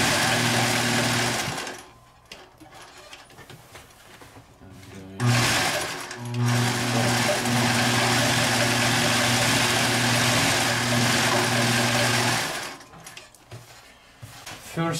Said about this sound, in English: So, let's stitch it. I'm going to start from the top.